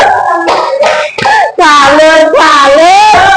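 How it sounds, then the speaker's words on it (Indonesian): A microteaching classroom does a 'tepuk salut' clapping routine: a group claps a few sharp rhythmic beats between loud chanted voices, and then the chanting carries on over sparse claps. "sekarang kita kasih tepuk salut buat Mbak Buko"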